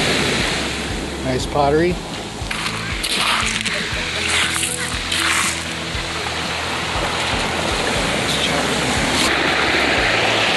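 Big ocean waves crash and surge onto a rocky beach strewn with sea glass, a loud continuous roar of surf and splashing close by, with a person briefly speaking over it.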